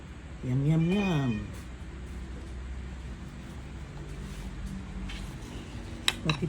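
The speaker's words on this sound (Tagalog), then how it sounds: "Pati pusa, gusto ng mangga." A cat that wants mango gives a single clear, drawn-out meow up close outdoors, followed by faint traffic noise and a brief clink of dishes.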